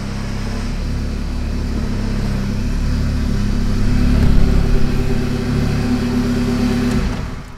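A boosted Honda Civic engine runs loud and close, its steady rumble swelling as it revs before tapering off, with no talking.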